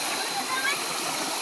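A rural stream flowing in the province, a steady broadband rush and babble of water heard continuously and fairly close, with no clear talk in the moment.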